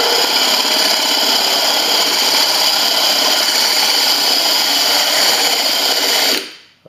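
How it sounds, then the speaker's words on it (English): A power drill bores into a Pyrex glass dish with a loud, steady, high whine that runs continuously for about six seconds before cutting off and spinning down. "down with your drill bit and make the start into the fire"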